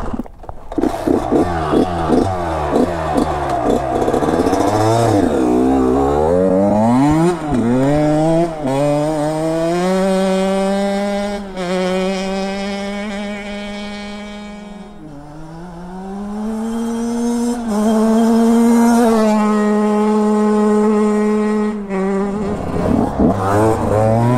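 A KTM 150 SX two-stroke dirt bike, ridden for motocross and enduro, revs loud and close, its engine pitch repeatedly rising and falling in sweeping climbs as it accelerates.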